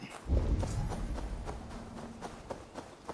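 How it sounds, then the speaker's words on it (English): Horse hooves clip-clop in the video game Assassin's Creed Odyssey, a quick run of light, evenly spaced hoof strikes at moderate distance. A soft game ambience sits underneath, and no one speaks. "Horses."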